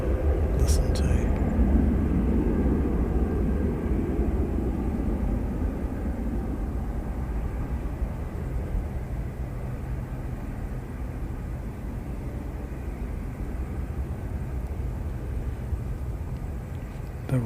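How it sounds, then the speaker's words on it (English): Jetstar flight 246 airliner rumbling, a deep continuous roar that is loudest early on and slowly eases while staying steady in the background. "The rumble of Jetstar 246"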